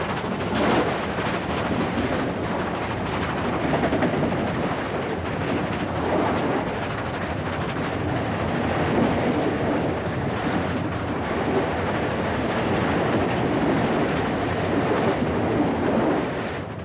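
A 3,000 horsepower steam locomotive hauling a 1,200-ton train rumbles steadily close by, with a dense continuous roar of exhaust and rolling wheels that holds at an even loudness throughout.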